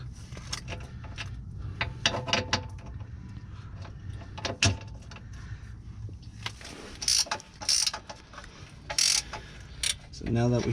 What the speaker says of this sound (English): the first thing that we are going to be doing is loosen this bolt. We got this breaker bar on there. It is a 15mm.